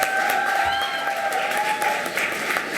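An audience gives a warm round of applause to the organiser, many hands clapping steadily and densely throughout, with faint tonal ringing under the clapping.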